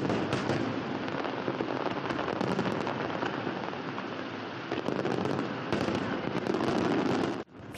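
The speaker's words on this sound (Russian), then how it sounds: "Ближе к ночи празднующих ждал еще один сюрприз – грандиозный салют на набережной." Grand fireworks salute over a city embankment during an anniversary celebration, a dense continuous barrage of crackling bursts and pops heard from a distance, steady and loud for several seconds before cutting off.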